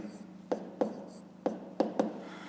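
Pen writing numbers on paper for a fifth-grade math exercise: a handful of short, distinct scratchy strokes spaced irregularly over a faint steady background hum.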